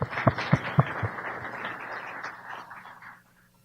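A brief burst of applause from a small crowd, a few sharp claps up front, then scattered clapping that fades out within a few seconds.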